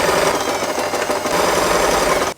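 A sewing machine runs nonstop as it stitches fabric for a multi-colored scrunchie, a loud, close, rapid mechanical whir that cuts off abruptly at the very end.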